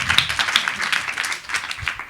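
Conference audience applauding a student participant, a brief burst of close, uneven hand clapping fading over two seconds.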